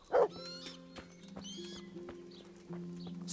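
A horse whinnies briefly at the start in the video game Kingdom Come: Deliverance, followed by a steady droning musical tone and scattered light effects, with no talking.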